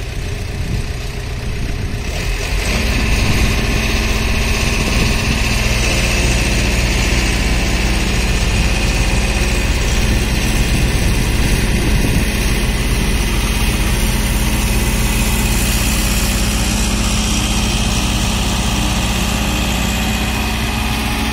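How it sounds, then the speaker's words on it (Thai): A car engine roars steadily at high revs on a dusty dirt road, loud and sustained with heavy low rumble and vibration throughout, no speech. "คันนี้คนขับซิ่งนะครับ"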